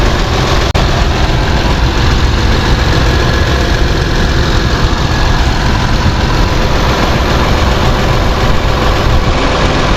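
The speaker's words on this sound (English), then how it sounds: "The engine sounds good." A loud, close 2015 Honda Pilot engine idles steadily with a deep, rumbling low-end throb and no other sounds.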